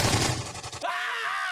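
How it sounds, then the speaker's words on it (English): Gunfire effect from a WWII wargame battle report: a rapid burst of shots striking home one after another, then a ringing, fading tail, loud and close, no talking. "Rounds strike home, one after another."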